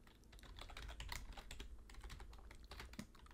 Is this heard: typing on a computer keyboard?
yes